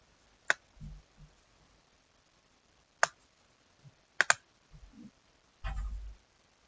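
Mouse clicks while choosing a file on a website: four sharp, isolated clicks spread out over several seconds, quiet and close, with faint handling bumps between them.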